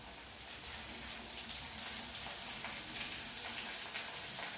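White onion frying with garlic in a pan, a faint, steady hissing sizzle with small crackles, close but quiet and unbroken by speech.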